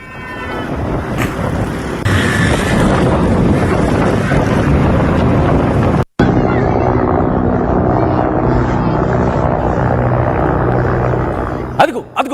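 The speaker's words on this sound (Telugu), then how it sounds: "4 హెలికాప్టర్లు ప్రస్తుతం రంగంలోకి దిగాయి" Military helicopters fly overhead during a Pakistan army operation, giving a steady loud rotor roar mixed with wind rush that fills the whole stretch, broken only by a brief cut.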